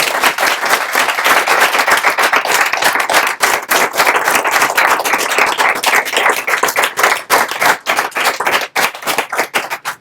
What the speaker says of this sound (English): can we just give them a round of applause, please?